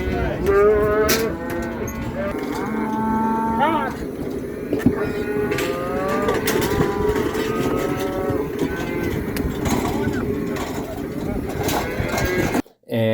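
Black Angus cattle moo repeatedly as they are pushed into squeeze chutes on a ranch in the Rocky Mountain foothills during branding day, loud overlapping calls from several animals over constant herd bustle.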